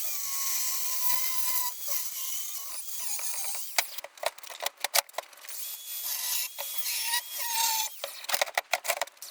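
A weld on metal is cut out with a power tool, giving a close, harsh rasping and grinding that stops and starts, breaking into choppy bursts in the second half.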